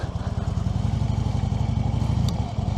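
Harley-Davidson Road King motorcycle engine running steadily close by, a loud continuous low rumble with throbbing pulses and a faint click near the end, during slow-speed riding practice.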